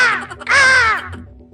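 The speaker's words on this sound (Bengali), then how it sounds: "ওটা লিচু নয় রে, ওটা কাক।" A single loud, close crow caw in a cartoon, a harsh drawn-out call that rises and trails off, standing alone without any talking.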